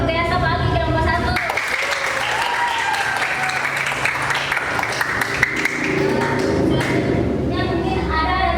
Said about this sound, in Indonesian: berikan tepuk tangan yang luar biasa bagi kelompok 1